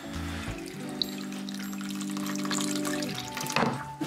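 Freshly squeezed lemon juice pours steadily into a bowl, a continuous liquid trickle lasting a few seconds before it tapers off.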